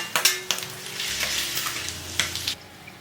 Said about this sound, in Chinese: 把猪肥膘炸到这样的状态，微微金黄就可以了，不要炸得太过。